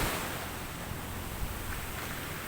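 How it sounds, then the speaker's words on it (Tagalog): Strong ocean waves roar close by in a steady, dense wash of surf, with no voices over it. "Lakas ng alon."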